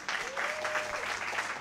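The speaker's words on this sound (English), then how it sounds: "Clap it up, tent maker." A church congregation applauds at a tent service, a short burst of quick, dense clapping at moderate level with a sustained voice tone running across it.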